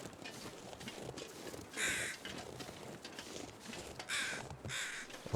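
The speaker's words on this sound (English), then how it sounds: "I can hear the crows." Crows caw in bursts in the snowy wilderness of the survival game The Long Dark, a few distinct calls standing out over quiet ambient wind and faint footsteps.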